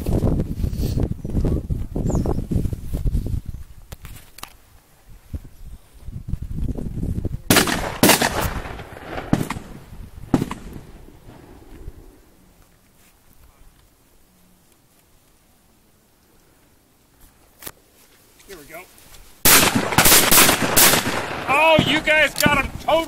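Several loud shotgun blasts ring out during a bird hunt in the snow, in bursts near the start and middle and a dense cluster at the end, with people talking between the shots.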